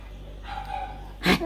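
A single dog bark sounds near the end, short and fairly close, after a quiet stretch with a faint tone.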